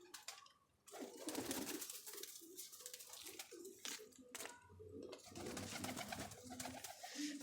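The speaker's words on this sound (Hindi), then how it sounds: "ये मेरे वैशी कबूतर हैं जी, ये भी 2 बच्चे हैं माशाल्लाह से वैशी" Pigeons, a flock of highflyer birds with their young, coo softly and repeatedly in a close, busy setting, the rolling low calls recurring over steady background rustle.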